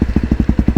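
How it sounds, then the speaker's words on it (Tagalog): A Honda CRF 250L trail motorcycle engine thumps close and loud in a quick, even pulse of roughly ten firing beats, alone with no voices. "bago na naman yung motor ni Bros Ben guys. CRF 250L."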